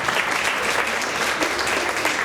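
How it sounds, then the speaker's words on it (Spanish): An audience at a talk on accelerated learning breaks into steady, dense applause, many hands clapping at once from close to mid distance. "Un aplauso también."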